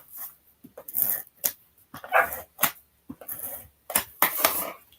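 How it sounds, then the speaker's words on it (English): A dog barks repeatedly to be let back inside a home craft room, sharp bursts in an uneven rhythm, fairly close and loud, with short gaps between barks and no talk. "The dog is now asking to come in."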